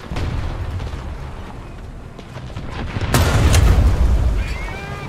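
An artillery shell bursts in War Thunder, a single heavy boom that lands partway through over a rumbling battlefield background, followed by a lingering low roar and crackle.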